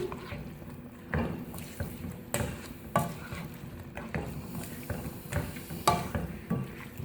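Potatoes and mince with spices stirred in a pan, spoon scraping in irregular strokes every second or so over a soft sizzle, close and fairly quiet.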